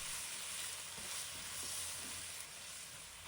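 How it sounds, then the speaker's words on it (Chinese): Chinese kale stir-fried in a wok with salt, chicken powder and oyster sauce gives a steady, close sizzle with faint scraping stirs throughout, no voices. "继续翻炒均匀。"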